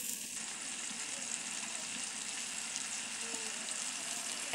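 Cumin, turmeric and other spices fry in a pan for a cauliflower dish, giving a soft, steady sizzle with faint crackles and no talking.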